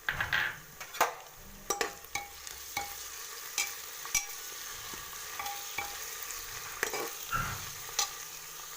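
Onions that have browned in a pan sizzle with garlic-ginger paste for biryani, a soft steady frying hiss broken by repeated sharp scrapes and clinks of a spoon stirring against the pan, heard close up and without talk.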